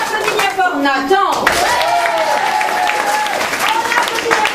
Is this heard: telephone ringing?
no